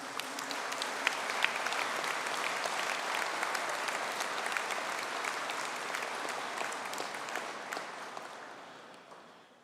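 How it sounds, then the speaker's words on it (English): Sustained audience applause for Master of Science in Software Engineering graduates at a conferring ceremony, a dense, steady roar of many hands clapping that holds for several seconds and then tapers off at the end. "could I have a sustained round of applause for the Master of Science in Software Engineering graduates?"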